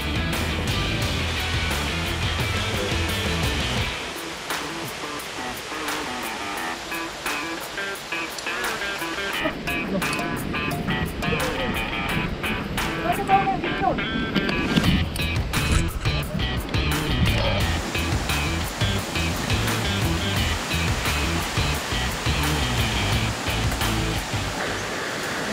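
Gunung Sampar Nyawe waterfall in Indonesia rushes as a loud, continuous broadband roar that shifts in intensity over time, heard from near the rock face with faint voices in the background.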